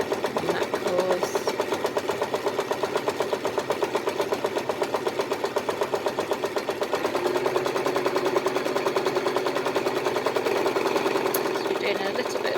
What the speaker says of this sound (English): So we're doing a little bit of quilting here. Doesn't have to be perfect, just nice straight lines.